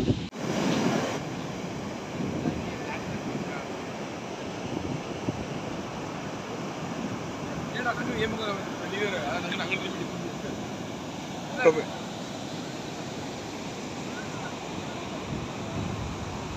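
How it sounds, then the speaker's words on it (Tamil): Surf rolls in at Varkala beach beside the cliffs, a continuous broad roar of waves mixed with wind buffeting the microphone. A brief louder gust or wash comes near the end. "இப்போ வர்க்கில் பீச்சுக்கு வந்திருக்கோம்"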